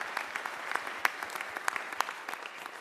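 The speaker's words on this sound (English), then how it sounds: "Give her a round of applause." A modest audience at a transportation summit session gives a short, sparse round of applause, individual claps distinct and fairly quiet, spread over about three seconds.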